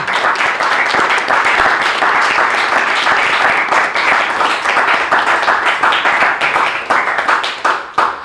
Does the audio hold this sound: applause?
yes